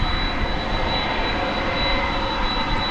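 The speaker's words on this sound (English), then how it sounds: "There's a 767. This one's also going to Louisville." A Boeing 767 jet at DFW Airport at night gives a steady, loud, broadband engine roar with no distinct events and a faint high whine over it, heard without any talking.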